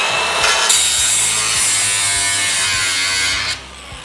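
Power tool cutting through a rusted car roof on a highboy truck, a harsh grinding rasp that starts abruptly, runs steadily near and loud for about three seconds, then cuts off.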